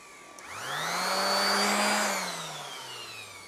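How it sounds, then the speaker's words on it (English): A bench sander spins up and grinds against small wood pieces being sanded aggressively on both sides, a loud steady whine rising at the start, holding, then winding down as the motor slows, with no talk. "I'm going to put them on my sander, and I'm going to sand both sides pretty aggressively"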